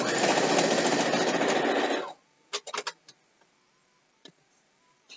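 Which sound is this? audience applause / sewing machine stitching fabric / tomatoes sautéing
sewing machine stitching fabric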